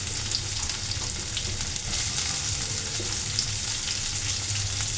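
Onion and green chilli sizzle steadily in hot oil with ginger and garlic for a mezhukkupuratti base, a close, continuous crackling fry with no voice over it.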